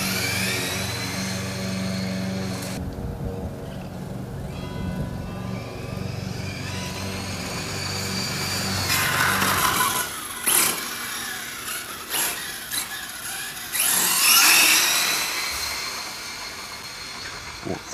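Hobao GTB Leopard RC car with a 2200kv motor on 4S power running in a GT race, a continuous whining electric motor drone that rises and falls, with sharp bursts and passes toward the end.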